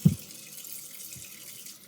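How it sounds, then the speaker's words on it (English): Water runs from a kitchen tap while bok choy is washed, a soft, steady splashing stream with a faint thud near the start, heard without voices. "So I run the water"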